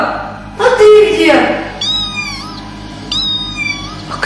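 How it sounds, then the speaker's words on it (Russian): Cat meows several times, a loud drawn-out cry followed by two thinner, higher meows, over a low humming background and a voice speaking. "А кто это мяукает?"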